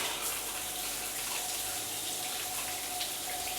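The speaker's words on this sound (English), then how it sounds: "Right, let's give the shower a go." Hotel ensuite shower running at full pressure, a steady, close hiss of spraying water that stays even and constant throughout, with no talking.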